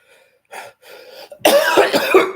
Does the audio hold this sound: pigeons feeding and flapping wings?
no